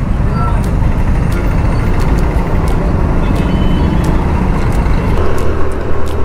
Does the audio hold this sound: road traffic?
yes